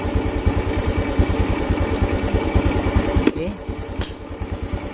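A Honda Revo motorcycle with a weak charging circuit idles close by in a rapid, rough, pulsing rhythm, then shifts to a softer, uneven beat after a sharp click. Someone says a brief word.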